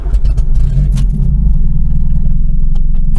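A 30-year-old VW Golf engine catches and runs with a loud, steady low rumble and a rough clattering idle, close by and with no talk over it.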